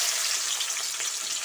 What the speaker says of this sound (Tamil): அடுத்து வெங்காயம் அள்ளி போட்டுக்குருவோம்.